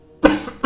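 A voice imitates a cough: one short, harsh throaty burst followed by a second brief one, close and dry with nothing else around it.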